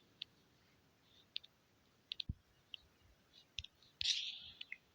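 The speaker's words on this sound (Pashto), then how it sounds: "دغه ځای باندې به کلیک وکړئ." A few sharp computer mouse clicks, single and in quick pairs, tap out against near silence while navigating the Bitget exchange website, with one brief louder rustle near the end.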